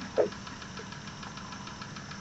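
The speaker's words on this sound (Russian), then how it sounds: "В данный момент работает двигатель." A Yamaha outboard boat motor runs steadily at idle during laptop diagnostics, giving a low, even engine hum with faint periodic ticking and one brief click near the start.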